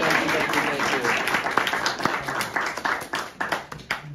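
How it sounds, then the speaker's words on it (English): Audience clapping for a speaker named Dan at a session talk, dense lively applause from a room of people, fairly loud and steady before thinning toward the end, with voices mixed in. "round of applause for Dan"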